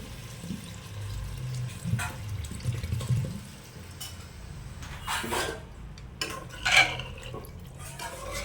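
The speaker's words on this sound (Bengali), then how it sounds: "এবার আমরা এর মধ্যে দিয়ে দিচ্ছি পরিমাণ মতো জল" Water poured into a pan of well-cooked, browned chicken for a red chicken curry, a soft watery splashing with faint metallic clinks of a pan or utensil, close and moderately quiet with no talk.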